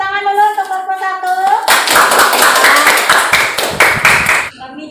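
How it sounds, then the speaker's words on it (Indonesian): Classroom applause for a student group after their presentation, a burst of many hands clapping that swells in after a voice and runs loud for a few seconds before cutting off. "Kita boleh tepuk tangan dulu untuk kelompok 1."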